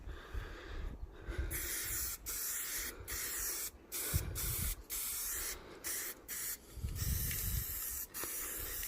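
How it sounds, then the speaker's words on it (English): Spray paint from an aerosol can hisses onto the forks of a Raleigh Burner bicycle during a restoration, laying a light first coat in a series of short bursts separated by brief pauses, close and fairly loud. "just moving around the forks, just getting a nice light coat on there first"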